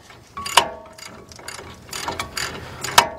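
A half-inch ratchet clicks in short bursts while loosening brake caliper bolts on a 2000 Dodge Ram 1500 van with a 3.9 engine, close and crisp, with sharp metallic clanks between the pawl strokes.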